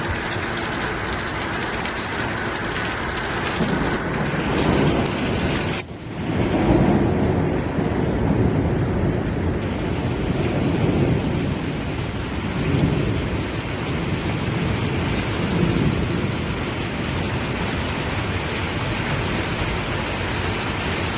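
Heavy monsoon rain pours steadily in Shimla with rumbling thunder rolling through, a dense continuous roar broken by one brief dip before the downpour resumes at full strength.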